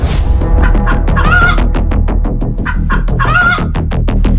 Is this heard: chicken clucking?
yes